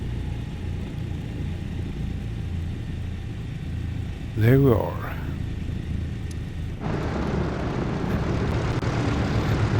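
Propeller engine of a Douglas DC-3 airliner rumbling steadily at lowered revs, a continuous low drone throughout with a brief voice in the middle and a louder, broader roar building near the end.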